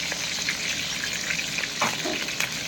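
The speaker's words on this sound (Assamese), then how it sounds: "এতিয়া পিঁয়াজ জলকীয়া আগতে ভাজি লওঁ চব্জি বনাবৰ কাৰণে" Onions and green chillies fry steadily in a pan with a continuous close sizzle, light stirring scrapes and small pops throughout.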